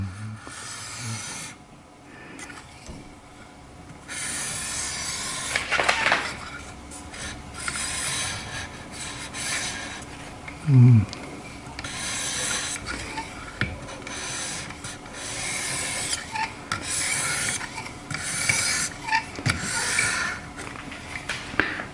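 A kitchen knife edge is sharpened in steady rasping, scraping strokes on an abrasive, close and moderately loud, with faint handling clicks between passes.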